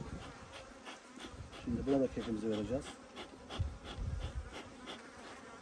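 Honeybees hum thickly over an opened hive colony with about six full frames, a loud continuous buzz close to the microphone while someone talks over it.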